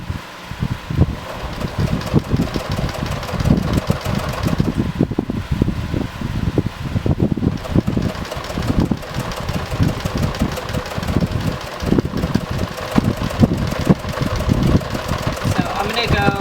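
Sewing machine back-stitching fabric along the bottom edge of a homemade laptop bag, a rapid continuous mechanical whirr with fluttering stitch pulses, steady and close throughout.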